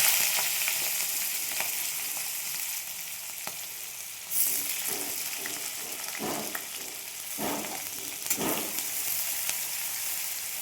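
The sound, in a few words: onion frying in oil with cumin in a pan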